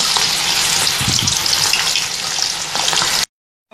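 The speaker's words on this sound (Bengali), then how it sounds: "আমি এখন পটেটো স্লাইসগুলো তেলের মধ্যে দিয়ে দেব।" Potato slices frying in hot oil, a loud dense sizzle with bubbling crackles that holds steady for about three seconds and then cuts off abruptly into silence, no talk.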